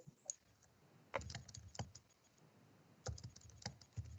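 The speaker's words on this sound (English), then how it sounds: "I can hear you typing, Alex." Someone types on a computer keyboard during an online tabletop game session, with sparse clicks and short bursts of keystrokes that are faint and close, and no talking.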